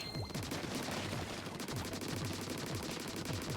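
Rapid bursts of ink-weapon fire from Splatoon 2's Octo Expansion, a dense repeating stream of shots running nearly the whole clip, loud and close with no speech.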